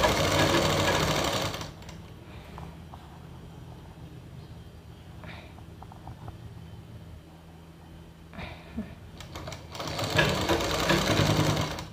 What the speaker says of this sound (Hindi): ये देखिए इस तरीके से हम सिलाई लगाते हुए चलेंगे